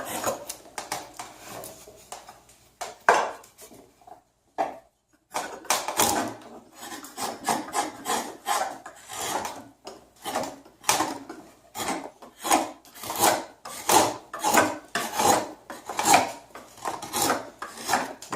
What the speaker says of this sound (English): And I even do the back of the bowl too with my draw knife